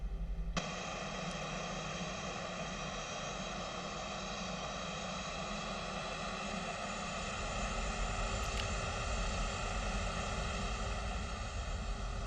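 Steady propeller aircraft engine drone in the X-Plane 11 flight simulator while taxiing out to runway 30, continuous and loud with a constant even hum throughout.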